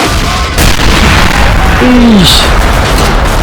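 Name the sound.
artillery fire explosions in a toy war video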